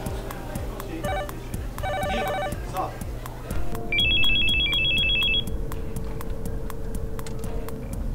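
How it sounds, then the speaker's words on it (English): A telephone rings unanswered in repeated electronic trilling bursts over a steady background hum, followed by a faint higher ringback tone, with occasional speech in the room. "No one's answering. Try John's phone."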